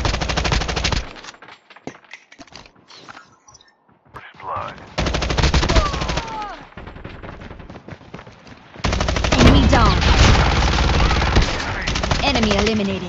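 Rapid automatic bursts from a QXR submachine gun in Call of Duty Mobile rattle loudly in long strings with short pauses, mixed with game sound effects and radio-style voice callouts.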